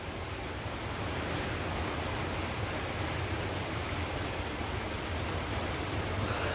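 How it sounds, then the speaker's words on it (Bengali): Rain falls on a tin-roofed village house, making a steady, even hiss of drops with no pauses, moderately loud and continuous throughout. "মোটামুটি এখন একটু বৃষ্টি কম।"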